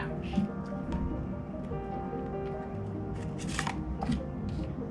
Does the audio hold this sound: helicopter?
no